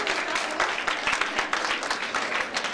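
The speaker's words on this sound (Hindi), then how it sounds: "हम सभी को जोरदार तालियां बजानी चाहिए" Sustained audience applause with many hands clapping densely and evenly throughout at a school event, close and fairly loud with no talk over it.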